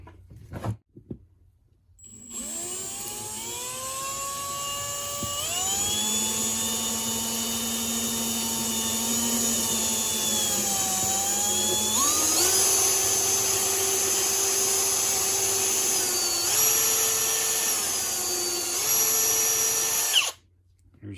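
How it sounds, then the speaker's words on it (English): A power drill whirs steadily for about eighteen seconds, its pitch stepping up and shifting as it bites through a hard DH-132B helmet shell being fitted to a FAST SF helmet, loud and close. "now I'm going to drill."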